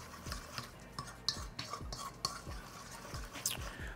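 Ingredients for spicy cauliflower wings get mixed in a bowl, a quiet run of regular scraping strokes and soft clinks of a utensil against the bowl, close and alone.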